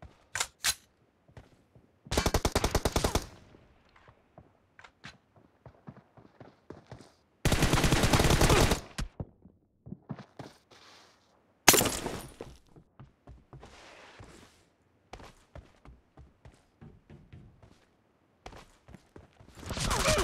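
M416 rifle fire in a video game, heard as several loud sustained automatic bursts, dense and full-spectrum, separated by quieter stretches of scattered clicks and footsteps.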